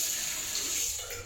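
Water runs from a bathroom tap in a steady, close hiss that holds through the whole short moment, as a face is wetted during a morning skincare routine.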